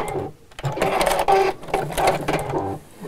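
Sewing machine stitching the seam of a zipped fabric pouch, a close, steady mechanical whirr in several short runs broken by brief pauses.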